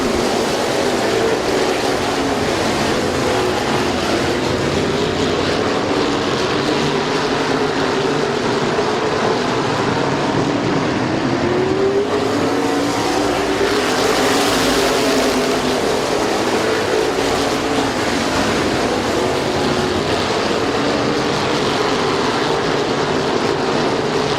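Race cars speed around a speedway track at Midvale Speedway, a continuous loud roar of engines swelling as the pack passes, one nearer sweep building mid-way before easing back into a sustained drone.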